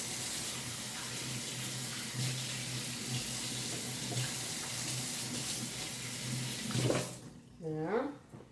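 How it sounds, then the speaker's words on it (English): Kitchen tap running water over hands being washed after seasoning a spatchcock chicken, a steady close gush that cuts off near the end, followed by brief voiced sounds. "let's wash the hands again"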